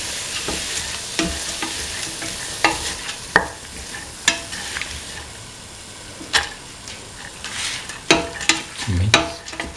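Lentils are stirred in a frying pan over a constant sizzle, with a spoon scraping and clacking in irregular strokes, several sharper knocks standing out near and clear.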